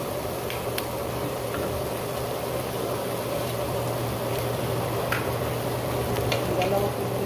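Bitter gourd (ampalaya) and egg are stirred in a pan with a steady low sizzle and faint scraping taps of a utensil, continuing evenly throughout with little talk.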